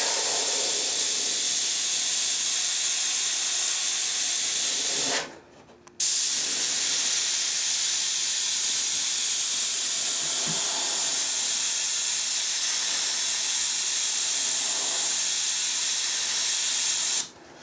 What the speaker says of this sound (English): I'm really not painting the edge, I'm painting away from it, and the overspray is getting on the edge.